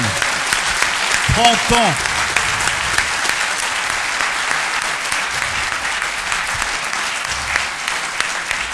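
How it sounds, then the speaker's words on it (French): A loud audience at a French trophy ceremony for a hotel network applauds steadily and densely throughout, with a voice calling out briefly over the clapping near the start. "Si on peut applaudir vraiment très très fort sur l'IREF"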